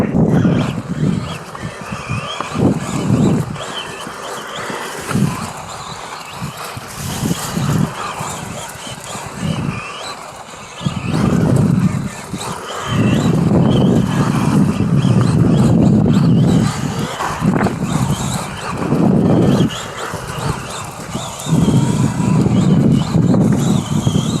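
An RC rally car built on an X-Ray XB4 platform drives nearby, its electric motor whining in surges that rise and fall as it speeds up and slows, with gravelly wheel noise between bursts.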